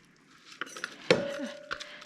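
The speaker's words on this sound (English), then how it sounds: "I'm going to throw it in a measuring cup" Chopped onions dropping into a measuring cup while making fresh tomato salsa, heard as a few light clinks and taps with one sharper knock in the middle and a brief ringing tone after it, all close and fairly quiet.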